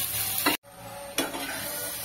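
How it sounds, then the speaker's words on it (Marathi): Okra (bhindi) frying in a pan during the making of kadhi, a steady close sizzle with a short stirring scrape, briefly cut by a moment of near silence midway. "आपण परत अजून 1 मिनिटभर भेंडी फ्राय करून घेणार आहोत"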